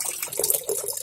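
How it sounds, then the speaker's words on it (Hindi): Water pouring into the tub of a Godrej semi-automatic washing machine, a continuous splashing, gurgling rush heard up close and alone. "तो अब ये पानी इसमें फिल हो रहा है।"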